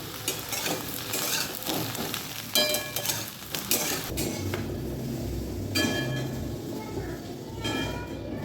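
Eggplant pieces frying in a pan, a steady oily sizzle with clattering stirring scrapes and pan knocks layered on top, moderately quiet and close, without talk.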